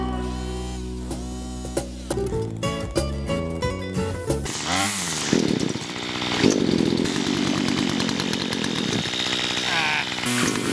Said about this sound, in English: Basically land clearing with a chainsaw